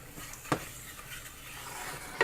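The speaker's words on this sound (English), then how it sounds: "You see it's sizzling, so it's waking up." Spices sizzle softly and steadily in hot coconut oil in a pan, with a couple of sharp clinks from a utensil, no voices.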